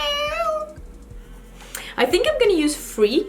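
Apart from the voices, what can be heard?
cat meowing at birds from balcony ledge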